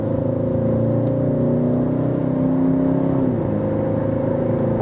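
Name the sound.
Peugeot 508 GT-Line accelerating from 70 to 100 km/h in sports mode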